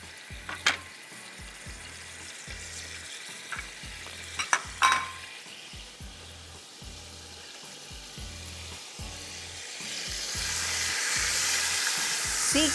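Sliced tomatoes go into red onions frying in a pan for a smoked seekh kabab biryani, with faint clinks and stirring bumps, then a gentle sizzle rising steadily toward the end.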